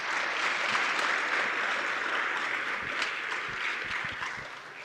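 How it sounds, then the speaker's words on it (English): Steady, dense applause from a church congregation for graduates fills the whole stretch, loud and sustained with no break, then eases slightly near the end. "Let's give them one more round of applause."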